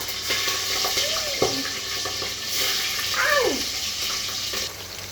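Whole spices and shahjeera sizzle and crackle in hot oil in a home kitchen, a steady bright frying hiss close by, with some scraping and clinks of utensils.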